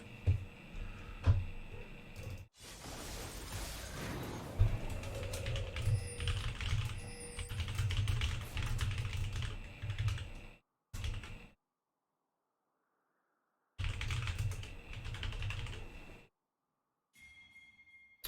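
Close, steady typing on a computer keyboard while notes are written during a game coaching session, a brisk run of clicks broken by brief silent gaps.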